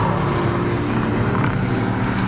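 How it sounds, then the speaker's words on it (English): A Mercedes AMG car accelerates under throttle, its engine a loud, close, steady roar filling the whole moment with no voices. "you touch the gas and there's just an immediate surge of power forwards"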